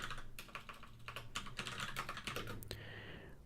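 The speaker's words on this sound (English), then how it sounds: "I am using a mechanical keyboard with Cherry MX brown switches" Steady, rapid typing on a mechanical keyboard fitted with Cherry MX Brown switches, a close, crisp run of clicky keystrokes at a developer's desk, heard alone without talk.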